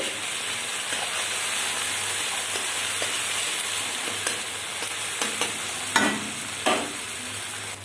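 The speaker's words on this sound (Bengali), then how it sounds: "রসুন বাটা দিলাম। ভালো করে ভেজে নিচ্ছি।" Garlic paste frying in a pan for ghugni, a steady loud sizzle and hiss with occasional sharper crackles and stirring scrapes toward the end.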